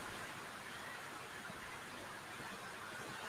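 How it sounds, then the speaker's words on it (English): Steady rain falls in an even, unbroken hiss that fills the whole stretch at a fairly low level, with no other distinct sounds on top. "Damn that rain."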